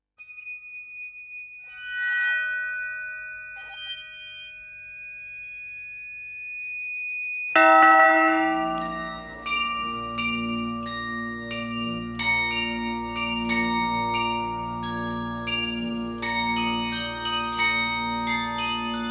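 A single bell tone sounds and sustains, then a dense peal of many bells rings out, overlapping in bright, clanging strikes that keep going, at the Paccard bell foundry in Sévrier.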